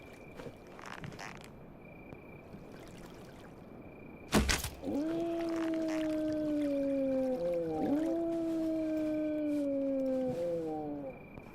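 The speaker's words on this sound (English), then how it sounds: "Those are definitely going to be the zombie dogs." Zombie dogs in the HumanitZ survival video game howl in long, drawn-out wavering cries, several overlapping, following a sharp loud bang and set over a steady insect-like buzz.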